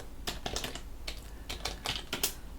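Typing on a computer keyboard during a Linux software setup, a quiet run of irregular clicky keystrokes in short bursts with brief pauses, close to the microphone and free of talk.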